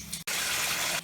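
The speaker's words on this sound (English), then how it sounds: "We're going to put the sacks into the bathtub, we're going to fill it up with water" A bathtub filling from the tap, a brief loud gush of running water that cuts out for an instant, then pours on steadily for about a second.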